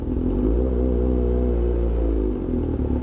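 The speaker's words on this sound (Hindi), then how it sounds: "बाइक अपने आप को वार्म अप करती है," A Honda CBR 1000RR-R superbike engine idling loudly on its own during warm-up, a steady deep rumble with a rhythmic low-pitched throb that eases slightly toward the end, close and alone with no voices.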